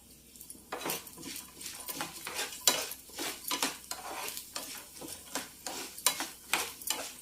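Lentils fry in oil in a pan, a soft sizzle under repeated scraping and stirring strokes of a utensil against the pan, fairly quiet and close.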